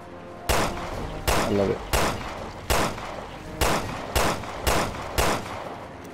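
Gunfire in the video game Resident Evil: Revelations 2: about seven sharp, loud shots spaced at fairly regular intervals, with a voice speaking briefly among them.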